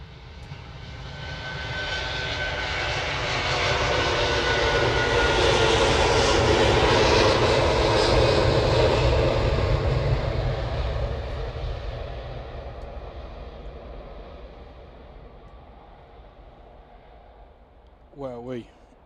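An Airbus A330 at Manchester Airport roars past. Its engine noise builds to a loud, broad rumble and then fades away over many seconds, with a brief voice close by near the end.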